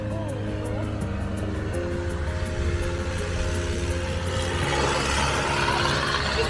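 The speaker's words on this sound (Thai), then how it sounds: "อุ้ยเรือหางยาวครับ เรือหางยาว" A Thai longtail boat engine speeds past on a river in Kanchanaburi, a moderately loud, rough motor drone that swells as it passes, with faint talk underneath.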